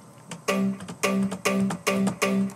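A bright, layered synth lead made of four sounds built in the Harmor synthesizer plays a rhythmic phrase of repeated stabbing notes, rich in harmonics, with no voices.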